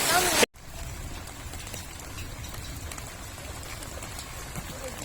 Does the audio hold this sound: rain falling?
yes